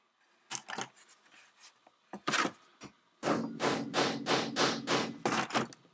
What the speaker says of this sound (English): take your hammer and whack on it real good